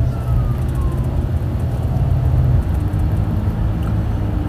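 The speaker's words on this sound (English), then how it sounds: "Hear a siren somewhere" A siren wails faintly in the distance, heard from inside a moving car over a steady low rumble of road and engine noise, with a thin rising tone drifting across the background.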